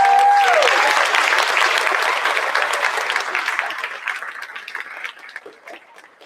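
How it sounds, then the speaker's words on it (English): Audience applause at a school district board meeting honouring student writing contest winners, a dense round of clapping that starts full and gradually thins and fades. "Round of applause."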